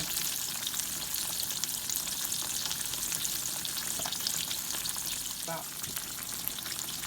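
Battered green tomatoes fry in hot oil in a pan, giving a steady, dense crackling sizzle close up, with a couple of faint clinks partway through.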